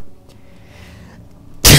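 A loud, close sneeze bursts out near the end, after a quiet stretch of low background rumble while playing the horror game Amnesia: The Dark Descent.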